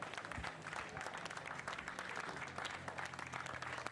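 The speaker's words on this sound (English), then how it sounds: "So lots of applause for Gabriele Torelli victorious" Dense applause from a crowd at the Misano World Circuit greets the Clio Cup race winner, steady and somewhat distant, with a low rumble of engines or crowd noise beneath.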